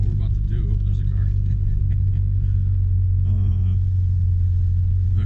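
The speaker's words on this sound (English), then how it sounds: "oh, there's a car." A car drives past at a makeshift drag strip, heard as a steady, loud low rumble that dominates throughout, with voices faintly audible beneath it.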